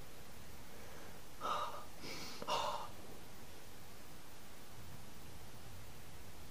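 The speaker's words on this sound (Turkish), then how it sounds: "Nefes alıp veriyoruz." A character in Cry of Fear breathes heavily, with two raspy gasping breaths rising briefly over a constant hissing background. No talk is heard.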